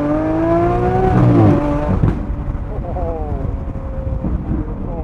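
A Lamborghini V12 with dual-clutch transmission and Kreisig aftermarket exhaust roars loud and close, revving up before crackling, popping bursts as it drops off.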